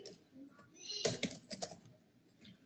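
Keys clatter in quick bursts on a computer keyboard while someone types a command into a UNIX terminal, the strikes clustered near the middle and fading to soft taps.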